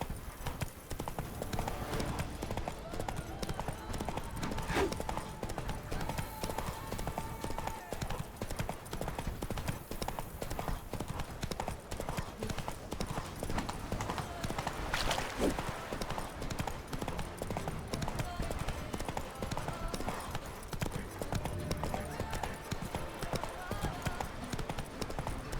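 Roach, a horse in the video game The Witcher 3: Blood and Wine, gallops with continuous rapid hoofbeats under game ambience and occasional speech-like sounds.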